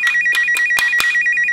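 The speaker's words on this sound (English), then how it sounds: "Yay, toy mobile phone." A toy mobile phone rings with a bright, electronic repeating tone, loud and close, over a series of sharp rhythmic beeps with no talking.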